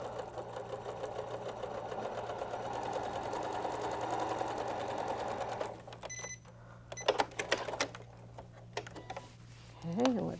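A sewing machine stitches pieces of quilt fabric together in a steady, even whir for several seconds, then stops, leaving light handling clicks and a short rustle of the cloth afterward.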